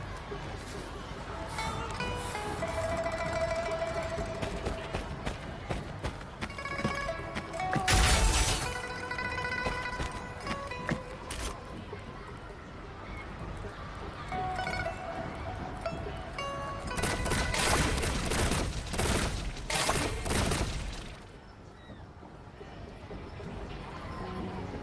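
Repeated shots and sharp shattering hits in the Moon Shooter minigame during the Moonchasing Festival event of Wuthering Waves, irregular bursts of impacts over game music and occasional voices.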